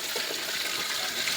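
Water running steadily from a tap into a container, a dense continuous splashing rush held at an even level throughout, close by with no voices.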